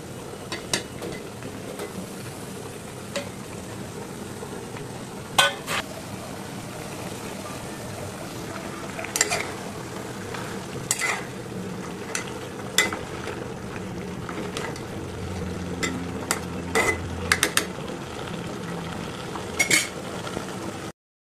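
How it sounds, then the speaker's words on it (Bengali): Fried winter vegetables cooked down with spices in a pan, giving a steady low sizzle under repeated scraping and clinking of a spoon against the metal, with sharper taps scattered throughout. "সবজিগুলো 5 মিনিট কষিয়ে নিতে হবে"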